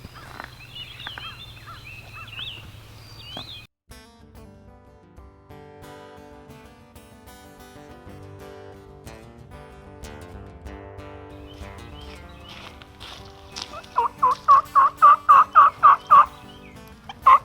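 Wild turkeys call at a field edge, quiet scattered sounds giving way to a rapid, loud run of about ten gobbling pulses near the end.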